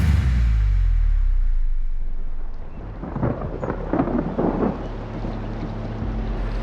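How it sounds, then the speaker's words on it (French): A storm breaks over a port as a deep, loud rumble of thunder rolls and fades, giving way to gusting wind and heavy, hissing rain. "une terrible tempête s'annonce"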